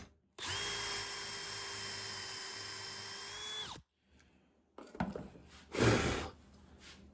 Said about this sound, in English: So, drilled that hole, the depth of the bit.